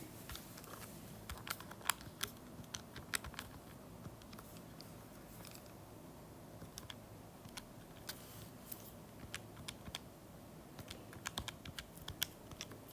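Keys on a calculator are tapped in quick irregular bursts of small sharp clicks, close and fairly faint, with no talk over them.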